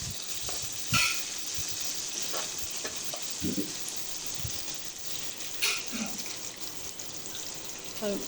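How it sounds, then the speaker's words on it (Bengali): Potato pieces frying with onions in hot oil for biryani, a steady soft sizzle with occasional louder stirring scrapes and clinks, close and fairly quiet, no talking. "আলুগুলোও পেঁয়াজের সাথে একটু ভেজে নিব"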